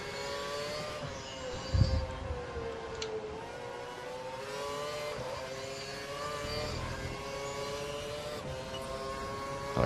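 An F1 race car in the F1 2012 game at the Hungarian Grand Prix screams at high revs, its engine pitch climbing and dipping through gear changes, loud and continuous, with a brief thump partway through.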